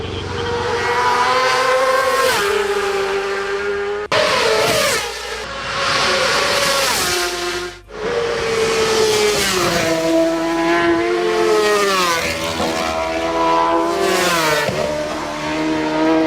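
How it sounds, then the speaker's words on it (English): High-pitched racing motorcycle engines scream past one after another at over 180 mph at the Isle of Man TT, echoing off stone walls, rising and falling in pitch as they accelerate and shift, loud and close. "Nothing beats that whine of the engine echoing off stone walls at over 180 miles per hour"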